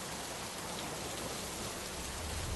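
Heavy cartoon rain pours in a steady, dense hiss, even and unbroken throughout, with a faint low rumble underneath and no voices.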